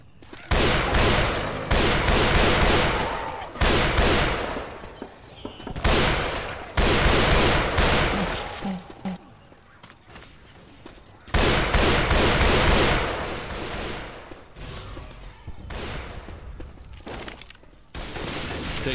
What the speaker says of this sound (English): Pistol action.